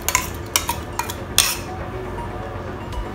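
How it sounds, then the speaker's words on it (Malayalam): A spoon stirs rice porridge in a pot after ground coconut, cumin and shallots are added, giving several sharp metallic scrapes and clinks in the first second and a half, then a quieter steady background. "നമുക്കിത് നല്ലോണം ഒന്ന് ഇളക്കി നോക്കാം."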